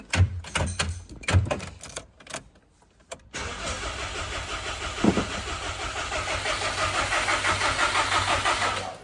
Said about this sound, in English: Just keep turning it over then, and we'll get as much pressure built up as possible.